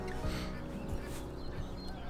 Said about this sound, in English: Some ducks are flying past me